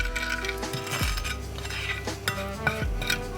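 Clinking utensil against a dish while stirring a tomato puree mixture before fish is added, with a few sharp metallic chinks over soft scraping, close and moderately loud.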